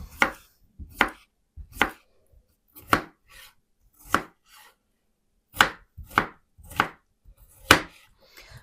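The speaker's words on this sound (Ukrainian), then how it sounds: "Тепер черга огірка." Sharp knife chops land one at a time on a cutting board, cubing a cucumber, about a dozen crisp thuds at a steady, unhurried pace with short pauses between.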